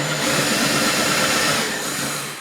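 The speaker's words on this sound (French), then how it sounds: "avec le guide, je viens et je perce" A power drill with a depth guide bores a hole into pallet wood for a giant domino game, a steady dense whirring roar held for a couple of seconds, close and loud, tapering slightly at the end.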